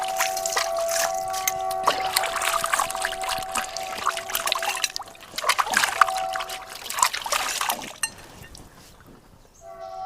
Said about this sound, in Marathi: तुम्हाला मी भांडे धुवून दाखवते